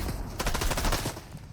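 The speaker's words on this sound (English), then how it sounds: "Person number 1 is quickly eliminated with 2 well-placed stickies." Sticky grenade launcher fire in Fortnite during a three-player fight: a quick cluster of sharp, punchy game shots and booms layered over loud in-game background noise, with no talking.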